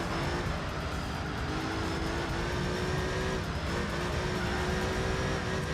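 The engine of a TVR Griffith 500 drones steadily in Gran Turismo 3, a continuous racing-game motor note with gradually rising pitch across gear changes, loud and unbroken throughout.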